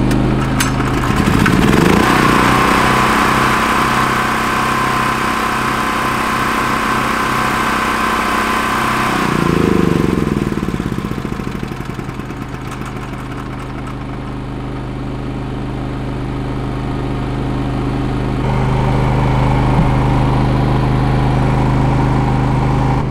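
An old portable generator runs beside a new inverter generator, together making a loud, steady engine drone with a rough idle, and the pitch and intensity shift partway through.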